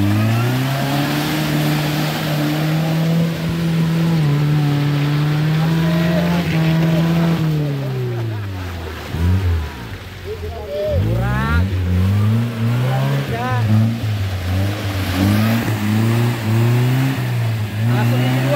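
A Suzuki Jimny off-roader fitted with a Vitara engine and a Willys axle runs loud and close, its engine rising and falling through several revs, with deeper drops and sharp blips midway as it works off-road.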